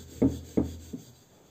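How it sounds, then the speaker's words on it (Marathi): A rolling pin presses potato paratha dough into a round on a board, giving three short, soft rubbing strokes, the first two firm and evenly spaced, the last fainter, heard close up. "त्या गोळ्याला थोडी कणिक लावून याला गोल आकाराचे लाटून घ्यायचे आहे।"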